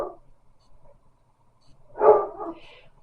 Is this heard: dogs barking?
yes